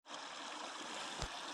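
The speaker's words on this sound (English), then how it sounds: "Nice little creek." A small creek flows and trickles in steady, continuous noise close by, with a brief soft splash or bump near the end and no talking.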